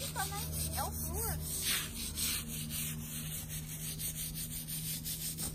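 A soft-bristled brush scrubs cleaning product across a grimy stone floor in steady rubbing strokes, close and continuous, while a voice speaks briefly near the start.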